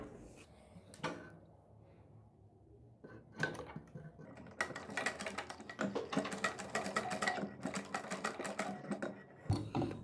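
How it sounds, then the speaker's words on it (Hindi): A sewing machine stitches a piping strip onto a sleeve, first a few quiet taps, then a steady run of rapid needle clatter close by, fairly soft overall, with no talk. "इसमें भी हम उतनी ही मोटी सिलाई लगाएंगे जितनी मोटी हमने अपनी आस्तीन के पाइपिंग के लिए सिलाई लगाई थी।"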